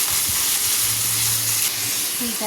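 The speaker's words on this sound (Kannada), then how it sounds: "ಈಗ ನೋಡಿ ಇಲ್ಲಿ ಫ್ರೈ ಆಗಿದೆ ಆನಿಯನ್ನು" Onion, chana dal, curry leaves and green chillies fry in a pan for a beans palya. The steady, loud close sizzle and hiss runs throughout.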